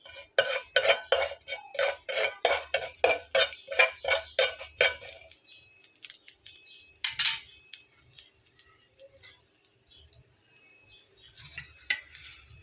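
A metal spoon clatters against a pan in a steady run of sharp, rapid scrapes and clinks while whole cumin seeds fry in mustard oil, then the stirring slows and fades into a thin background hiss.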